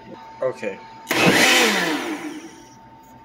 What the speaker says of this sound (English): so we're going to blend this and mix it up real good.